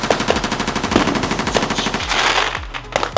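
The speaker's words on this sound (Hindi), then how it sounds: "गन्स भी चल रही हैं यहाँ पर।" Gunfire during New Year celebrations in Puerto Rico, a dense rapid crackle of repeated shots with sharp bangs, continuous and fairly loud amid outdoor festive noise.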